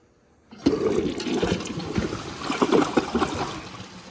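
A 2015 American Standard Champion 4 Max toilet flushes up close: a sudden loud rush of water, then swirling and trickling as the bowl drains and refills.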